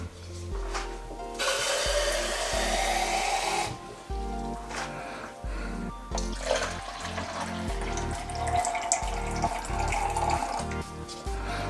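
Liquid poured through a filter while making homemade limoncello, a close, splashing, gurgling stream that starts and stops in several pours, with small clinks and knocks between them.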